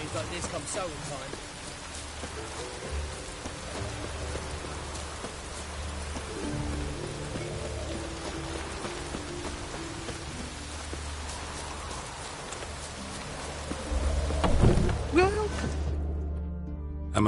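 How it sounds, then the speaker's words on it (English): Steady rain patters in the video game The Witcher 3, a soft continuous hiss of drops that sits beneath voices talking and swells slightly near the end. "Rains like this come sowing time."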